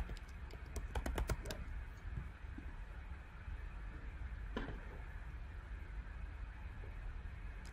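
Computer keyboard typing comes in a brief flurry of close taps, then one more lone keystroke later over a faint steady room hum, with no talking.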